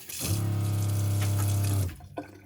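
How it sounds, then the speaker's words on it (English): A loud electric water pump in a converted VW LT46 camper van hums as the tap opens. A strong, steady, tonal drone runs for about one and a half seconds and then cuts off, with a small clunk afterward. "our water pump is super loud. So if I put it on"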